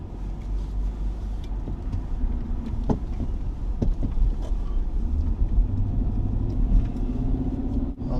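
A car drives along a road toward Capitol Reef, giving a steady low engine and road rumble with wind buffeting and a few faint knocks inside the cabin, continuous and without talk.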